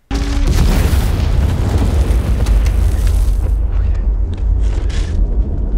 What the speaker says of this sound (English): the Colonel gets Mama's attention with the egg, tossing it as well as a grenade